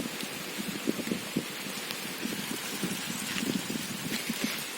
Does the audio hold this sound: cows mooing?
no